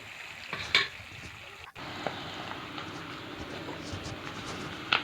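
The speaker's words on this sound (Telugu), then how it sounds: "చిటికెడు పసుపు వేసుకొని వీటన్నిటిని దోరగా వేయించుకుందాం" Onions, curry leaves and drumstick leaves with a pinch of turmeric frying in a pan for a coconut curry, a steady soft sizzle with occasional stirring scrapes and a couple of sharper clinks, close and moderately loud.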